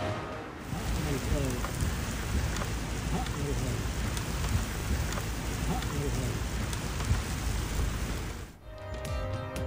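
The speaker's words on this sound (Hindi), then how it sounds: "दुबई के मुख्तलिफ इलाकों में गरज चमक के साथ मूसलाधार बारिश।" Heavy rain pours steadily in Dubai during a thunderstorm, a dense unbroken roar with low rumbles of thunder underneath, stopping abruptly near the end.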